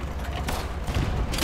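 A cannon or gun fires in the Easy Red 2 video game during the Battle of Stalingrad. A few loud, booming blasts land over a rumbling battlefield background.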